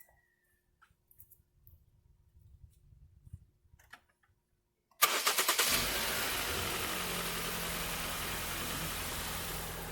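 2008 Ford Focus just after an oil change: faint clicks and shuffling, then the engine cranks and catches abruptly, settling into a steady, fairly loud idle.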